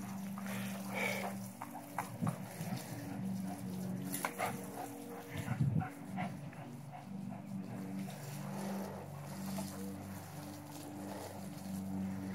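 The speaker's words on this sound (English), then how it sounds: "I don't think I've ever seen a dog try to bite water before." A dog plays with water spraying from a garden hose, with faint splashing, snapping and occasional whimpers under a steady hiss of running water, all fairly distant and quiet.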